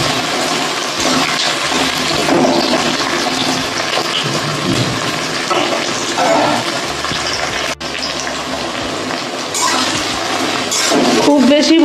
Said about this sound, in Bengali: এরপর আমি পেঁয়াজ, রসুন থেতো, কাঁচা লঙ্কা সব এই ফোড়নের সঙ্গে ভেজে নিচ্ছি।